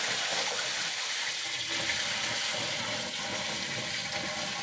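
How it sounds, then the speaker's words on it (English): Buckets of water pour into a basement sump pit, a steady broadband splashing and gushing that fills the whole stretch at constant loudness, close up, with no talking. "now I'm going to start dumping buckets of water in to fill it up to test the switch"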